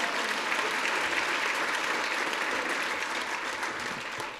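A college inauguration audience applauds, a dense, even wash of many hands clapping at a fairly faint, distant level that carries steadily and only slightly tapers toward the end.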